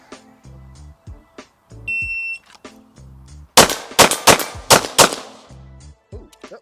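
A Walther PDP Steel Frame Compact pistol fires a quick string of about five loud, sharp shots close by, preceded by a run of short electronic beeps.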